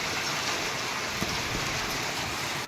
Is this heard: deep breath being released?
no